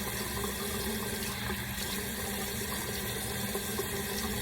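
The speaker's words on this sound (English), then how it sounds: "Just kind of dampen the hair so I can put the shampoo in there." Tap water runs steadily to dampen hair before shampooing, a constant close splashing flow with no talk.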